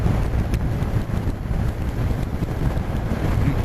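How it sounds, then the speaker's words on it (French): Heavy wind buffets the microphone while riding a motorcycle, a loud continuous low rumble that fills the whole stretch with no voices. "L'inconvénient, c'est le vent. Parce que là, je prends le vent"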